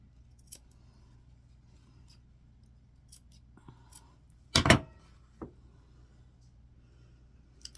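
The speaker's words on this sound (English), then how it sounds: "I'm going to take my scissors and I'm going to clip up to the neck edge." Sharp scissors snip into a fabric seam allowance up to the neck edge of a sewn dress bodice: a cluster of close, crisp cuts midway, then one lighter snip, with near silence around them.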